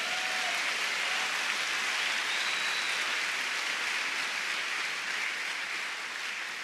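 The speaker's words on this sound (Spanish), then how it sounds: "Dele un aplauso al Señor." A church congregation applauds, a dense, sustained wash of clapping at an even level that tapers slightly toward the end.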